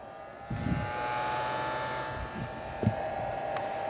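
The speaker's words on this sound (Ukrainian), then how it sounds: "От ми включимо фен на першу швидкість." A hair dryer on its first speed setting, powered by a homemade petrol generator, switches on and runs at a low, steady whir with a constant motor hum, close by and unchanging.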